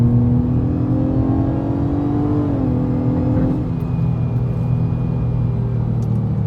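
A 7th-generation 2009-2014 Nissan Maxima on coilovers accelerating hard on a backroad, heard from inside the cabin: a loud engine drone rising in pitch, a brief dip at a shift, then climbing again.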